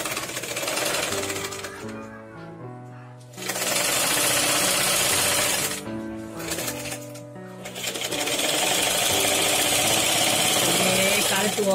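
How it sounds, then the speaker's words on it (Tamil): Sewing machine stitching lining fabric to a blouse in loud rapid bursts, stopping twice between runs, while someone talks over the pauses. "ரெண்டு துணியும் ஒன்னா சேர்த்துக்கணும்."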